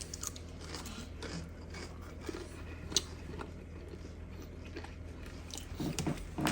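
Someone close by chews crunchy homemade potato chips in steady bites and crunches, fairly quiet, with a faint room hum behind and no talking.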